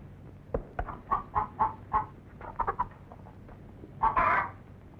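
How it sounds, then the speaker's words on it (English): Chickens cluck in a quick series of short, close calls, followed after a brief gap by a louder, drawn-out squawk. "feed the chickens"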